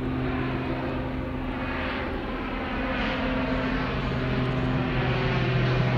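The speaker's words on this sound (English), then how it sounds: "Oh, there's a float plane, by the way." A float plane flies by outdoors near the shore, its propeller engine producing a continuous droning hum with steady tonal pitches that swells slightly as it passes, with no talking.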